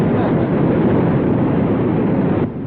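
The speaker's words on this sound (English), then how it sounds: "Yeah, but the wheels must be spinning in the mud." A straining engine revving steadily in a continuous loud roar while the vehicle is stuck in mud, holding a constant level and dropping slightly at the end.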